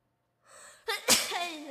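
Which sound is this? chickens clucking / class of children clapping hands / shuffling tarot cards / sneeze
sneeze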